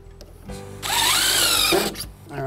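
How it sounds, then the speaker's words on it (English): A power screw gun drives a deck screw into a wooden joist in a single loud, rising whine of just under a second, with faint handling noise before and after. "Set the screw, drive until you hit the ridge on the bit"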